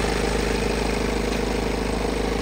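A 2021 BMW 520d diesel engine idles steadily at close range, a constant low rumble with an even, unbroken drone and no other sounds.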